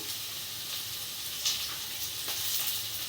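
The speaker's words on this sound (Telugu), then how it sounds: "ఈ ఉల్లిపాయని పచ్చిమిర్చిని ఆయిల్లో ఫ్రై చేసుకుందాం" Onion, green chilli and curry leaves frying in oil, with a steady, close sizzle and hiss and a few faint stirring taps, no voices.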